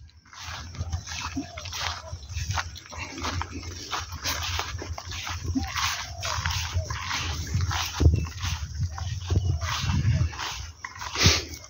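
Several dogs bark and yelp repeatedly at close to middle distance, overlapping in busy bursts throughout.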